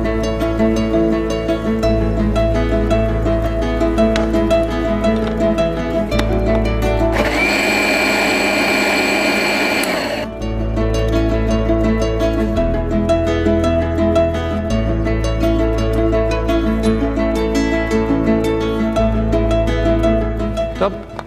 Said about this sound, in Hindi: अब एक ब्लेंडर में हमारा प्याज, टमाटर, काजू और ड्राई चिली के पेस्ट बनाएंगे हम।